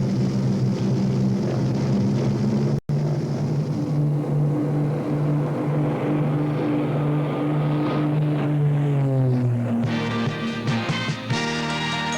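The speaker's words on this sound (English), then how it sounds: "Nice little airplane, huh?" A small propeller engine drones steadily at close range, its pitch dropping and shifting near the end as it changes speed, with a brief cut partway through.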